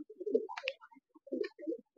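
Pigeons cooing in Kolkata, a few close, soft throaty coos in short bursts with brief pauses between them, clear against a quiet background.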